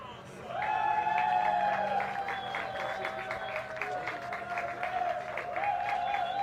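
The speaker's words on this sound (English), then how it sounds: "So the applause then for Gilles Redmond, who takes up step 3 on the podium." Crowd applauding and cheering at a Ferrari Challenge race podium ceremony in Valencia, steady clapping at moderate distance under a public-address announcer speaking and tonal music playing.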